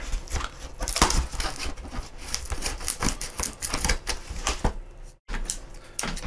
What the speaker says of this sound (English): So slice through the tape.